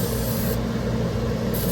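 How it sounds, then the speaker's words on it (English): Cooking spray hisses steadily from a can onto a pan fitted with an egg ring, as one continuous, close, even burst. "Give it a little spray with the pan spray."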